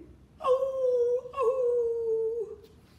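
Two drawn-out howls from dogs follow one after the other, each a clear wavering tone that slowly falls in pitch, heard close and alone against a quiet background.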